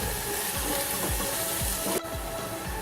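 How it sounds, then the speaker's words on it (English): Cream poured into a hot pan sizzles and crackles continuously, a bright hiss that runs steadily with regular low knocks underneath, fairly loud and close, with no talk. "Makes it sizzle a bit."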